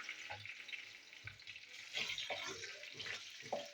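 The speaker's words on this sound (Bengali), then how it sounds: "একটু ভেজে নিই।" Whole cardamom, cinnamon, cloves and bay leaf fry in hot oil for chicken masala, a soft, close sizzle with light crackles and faint stirring, quiet and steady throughout.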